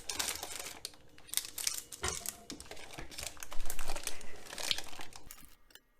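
A plastic Ziploc bag holding lard crinkles and crackles continuously up close, loud dense rustling with sharp snaps throughout, fading out at the very end.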